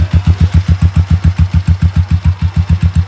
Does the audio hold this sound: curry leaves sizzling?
no